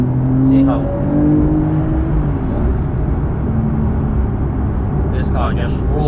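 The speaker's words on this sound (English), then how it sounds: "this car just roars, just wants to go." A Porsche 992 Carrera S in sport mode, its engine droning loudly and steadily on an open road, with someone speaking over the constant roar.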